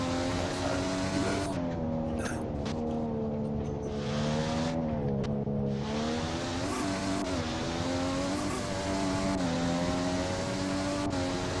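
An Aston Martin Formula Ultimate race car engine screams through a hot lap in a racing game, its pitch rising and falling steadily through gear changes, loud and up close with no talking.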